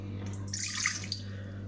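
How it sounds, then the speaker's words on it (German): About one and a half deciliters of water is poured into a mixing bowl for a dumpling dough, a short splashing pour lasting about half a second over a quiet steady hum. "Tun wir mal das Wasser."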